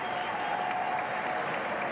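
New South Wales cricket crowd applauding a wicket, a catch to second slip, in a Sheffield Shield final, with steady, fairly distant clapping filling the whole brief moment.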